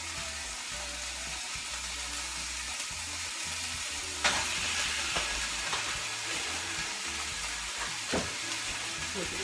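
Food sizzling in a frying pan while breakfast jambalaya is cooked, a steady broadband hiss running throughout with a few sharper crackles and pops near the middle and toward the end.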